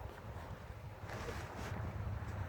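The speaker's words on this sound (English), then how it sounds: "you guys can hear that wind blowing around" Steady wind blowing and buffeting the microphone, a continuous low rumble with gusts swelling louder midway, no voices.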